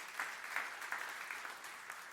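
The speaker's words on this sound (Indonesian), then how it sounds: "Beri tepuk tangan buat Tuhan Yesus." A church congregation at a Sunday worship service breaks into applause, a soft, steady patter of many hands clapping at some distance, faint and even throughout with no voices over it.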